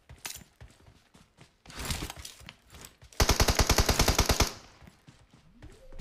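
Rapid machine gun fire from a PUBG Mobile squad fight arrives in short bursts and then one loud sustained burst, with softer scattered shots and footsteps around it.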